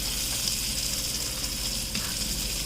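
Butter sizzles steadily in a hot pan while salmon is pan-seared, a loud, constant frying hiss with a few small pops and no pauses.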